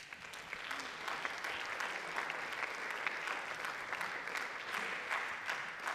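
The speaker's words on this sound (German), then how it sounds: "Bitte gebt ihm einen großen Applaus." A seated audience at a German-language talk applauds for about six seconds, a steady, even wash of many hands clapping that sounds somewhat distant and soft, with no voices over it.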